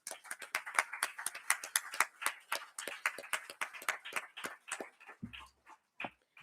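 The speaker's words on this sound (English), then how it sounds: "Let us give him a huge round of applause." Audience applause welcoming Professor Vinod Chandra at a literature and mathematics festival event, a small group clapping in sharp, close, separate claps that thin out to a few scattered hand claps near the end.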